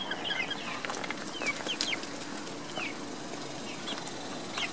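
A flock of chickens in a feeding frenzy over mealworms cluck and squawk busily in a steady, overlapping chatter, with occasional higher calls over a soft outdoor background.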